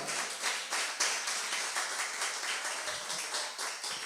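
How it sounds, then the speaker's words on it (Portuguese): A church congregation claps in steady rhythmic unison, moderately loud and continuous throughout, with no talking over it. "Vamos dar um aplauso forte ao Senhor"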